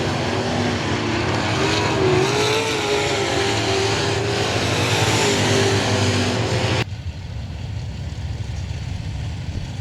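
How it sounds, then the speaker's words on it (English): IMCA modified race car engines roar loudly at I-37 Speedway, a dense pack accelerating with rising pitch for several seconds before the sound cuts abruptly to a quieter, distant rumble. "ready to rev up those big IMCA modified engines. Here they come, roaring in straight"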